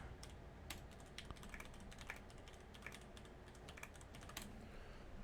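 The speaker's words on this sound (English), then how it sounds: "So sorry for the typing" Typing on a computer keyboard, a continuous stream of quick irregular key clicks with occasional sharper strokes, fairly faint over a low background hum.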